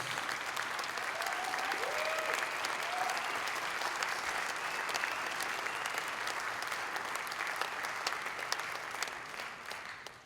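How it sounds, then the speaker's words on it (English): Sustained audience applause at a tribute event, a dense, continuous roar of many hands clapping for about ten seconds, with faint voices calling out early and a gradual taper at the end. "Charlie Heckheimer, please give him a round of applause"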